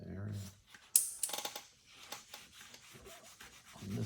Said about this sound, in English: just a little more elbow grease there with the Scotch-Brite and the lacquer thinner.